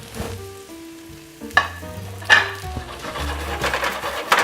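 Mushrooms sauté in about three ounces of oil in a crowded pan, with a steady close sizzle under clattering knocks and stirring scrapes as the pan is shaken.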